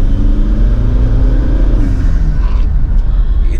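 A Toyota Innova's 2KD diesel engine revved up close and loud, a deep continuous rumble rising in pitch with the throttle and then settling back.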